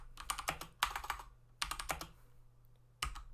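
Code is typed on a computer keyboard in quick bursts of close, crisp key clicks, separated by short pauses, with no voices.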